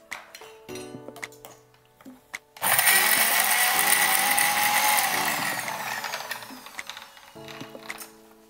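A mixer grinder whirs loudly for a few seconds as it grinds green chillies, garlic and a pinch of salt into masala, then winds down, with light clinks and knocks of the jar before and after.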